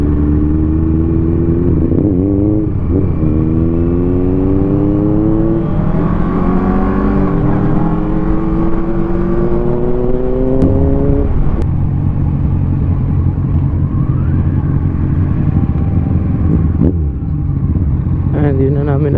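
A 1973 Honda CB750 motorcycle rumbles steadily on a ride, its engine pitch climbing through several gear changes with a constant loud drone and wind, close to the rider.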